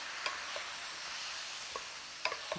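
Soy sauce being stirred into a pan of garlic butter steak, a quiet steady sizzle under soft scraping and a few faint clinks of the utensil against the pan.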